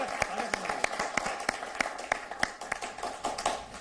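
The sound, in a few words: loud audience applause for a poet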